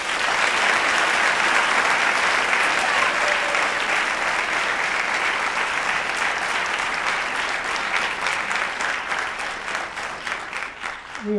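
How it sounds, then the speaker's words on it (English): An audience at a mental health talk claps in a long, loud, continuous round of applause that thins out and becomes more uneven near the end. "Let's give Lindsay one more round of applause."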